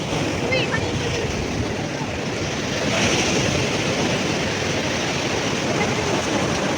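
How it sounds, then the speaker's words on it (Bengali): Sea waves washing onto the beach at Digha at the river mouth, a steady broadband roar of surf with wind buffeting the microphone, swelling slightly midway, light rain falling, no talk. "ওইদিকে ঢেউটা বেশি লাগছে।"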